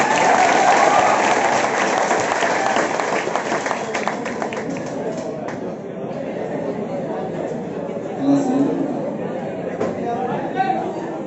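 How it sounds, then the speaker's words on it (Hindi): Children at a Holi celebration at a gurukul applaud their teacher, with a burst of clapping at the start that fades into crowd chatter, voices and movement, plus a few louder bumps later. "एक बार गुरुजी के लिए जोरदार तालियां हो जाए"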